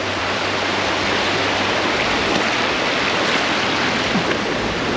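A river swollen after a night of flooding rushes past in a steady, broadband roar, loud and constant with no voices.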